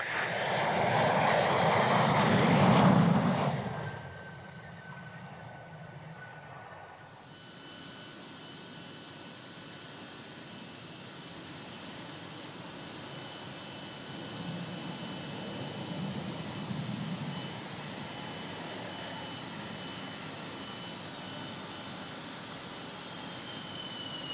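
A Rafale fighter jet passes, its roar loudest at the start and then easing into a distant, steady jet rumble with a high whine lingering throughout.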